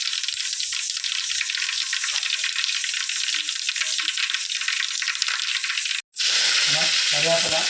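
Mustard seeds fry in hot oil for a Kerala-style roast, a loud continuous close crackling sizzle that cuts off briefly near the end, then resumes with a faint voice.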